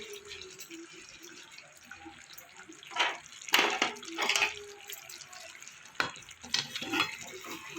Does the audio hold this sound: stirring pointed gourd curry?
yes